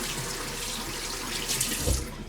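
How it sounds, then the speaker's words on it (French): A bathroom tap runs steadily as hands are rinsed during a morning and evening beauty routine, with a continuous close hiss and splash that briefly swells with louder splashing near the end. "Je me rince les mains."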